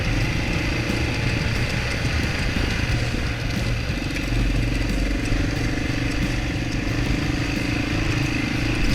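A motorcycle engine drones loud and unbroken while riding a trail on Rattlesnake Ridge, a steady mid-pitched throb mixed with rattling and wind rush, heard close from the rider's position.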